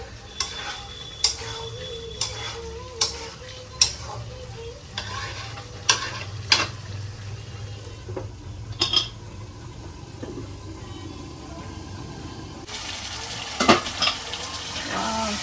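Fish and green papaya curry with local koi and shing fish being stirred in a pan, a spoon scraping and clinking in a steady series of close taps over a low sizzle, then a brief burst of louder frying near the end.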